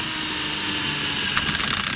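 Power drill boring into a hardened stainless steel Winkhaus door lock, a steady close grinding whine that turns rougher and stuttering near the end as the bit bites.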